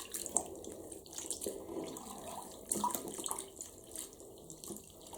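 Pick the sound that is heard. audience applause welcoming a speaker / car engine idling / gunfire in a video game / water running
water running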